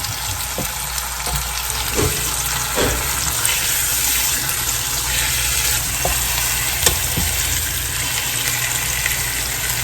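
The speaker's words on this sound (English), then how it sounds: "Just let it put a sear on it." A large Boston butt pork roast sears in hot olive oil, giving a steady, close sizzle with a few brief clinks and knocks and no talking.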